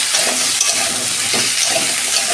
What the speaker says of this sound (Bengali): এই তো 2 মিনিট আমি ভেজে নেব।